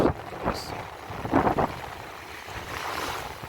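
Wind and surf on a sea beach at Durrës, Albania, give a steady, moderate rushing wash with a few louder gusts and splashes near the microphone.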